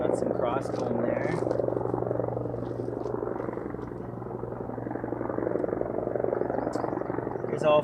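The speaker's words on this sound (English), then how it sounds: "There's a helicopter over there, being loud." Helicopter passes somewhere nearby during an outdoor beekeeping hive inspection, a steady low rotor drone that stays loud throughout, with faint scattered clicks and movement over it.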